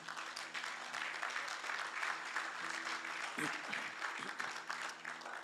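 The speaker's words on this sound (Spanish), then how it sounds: "Dele palmas fuertes al Señor" A church congregation claps loudly and steadily throughout, a dense wash of hands under a sustained musical drone, with a few low thumps near the end.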